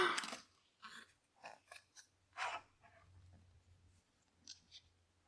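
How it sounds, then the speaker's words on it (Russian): Glued photobook pages from a BTS Speak Yourself London DVD set crackle and pop as they are pried open, several short dry crackles in bursts separated by quiet gaps, close and fairly loud. "Я думаю, что просто страницы они слиплись из-за того, что лежали сложено долго в упаковке, но этот звук меня пугает все равно."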